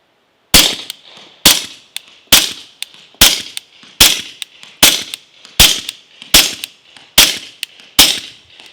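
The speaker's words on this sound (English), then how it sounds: "let me go ahead and dump some 158 grain Fiocchi subsonic ammo downrange with this thing" Ten evenly spaced suppressed 9mm shots fire from a pistol fitted with a Griffin Optimus silencer and loaded with 158-grain Fiocchi subsonic ammunition, each a sharp, loud crack with a short ringing tail, about one per second, with no voices.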